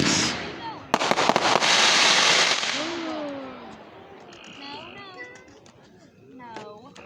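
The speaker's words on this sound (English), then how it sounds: "Fireworks." Fireworks bursting outdoors, a loud crackling barrage with sharp bangs that fades into scattered pops and whistles, while people talk and a cat-like yowl or squeal rises nearby.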